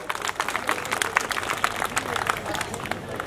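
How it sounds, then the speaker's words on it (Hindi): An audience at a meeting of election staff claps in a soft, scattered patter, a continuous spread of light hand claps with no voices over it. "तो मेरे लिए ताली तो बजा दो यार।"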